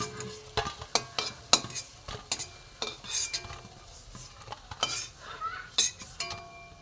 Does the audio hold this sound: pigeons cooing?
no